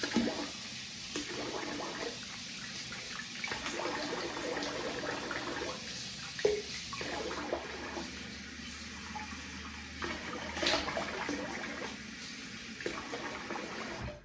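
Water from a running tap splashes as a face is rinsed after shaving, an uneven wash of close splashing and trickling that pauses and resumes in bursts, with a brief clunk midway and no talking.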